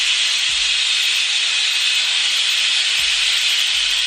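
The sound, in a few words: pressure cooker whistle while cooking dal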